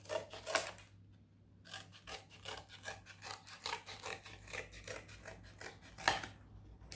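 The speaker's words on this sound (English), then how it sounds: "And then we cut it out." Scissors cut through coated cardboard with a steady run of close, rasping snips and rubbing strokes. The sound is fairly quiet, with a sharper crunch near the start and another near the end.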